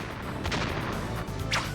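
Explosions and crashing impacts on a beach in the RPG Dragon Valor come as dense, rumbling game effects, with a sharp bright burst near the end of the short stretch.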